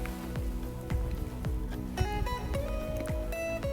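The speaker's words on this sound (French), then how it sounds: "Il pleut, il commence à pleuvoir." Rain beginning to fall on a mountain trail while hiking downhill, a steady patter of drops over low rumbling movement with faint rhythmic knocks, no talk.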